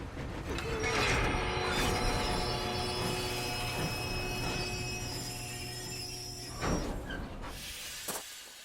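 Train running in Red Dead Redemption 2, a steady rumbling roll with high metallic ringing and squealing tones over a low drone, loud at first and easing slightly, with a brief clank near the end.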